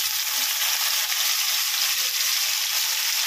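Vegetables with garlic and green chili sizzle and fry steadily in a hot pan, a loud continuous hiss with faint stirring scrapes and no talking.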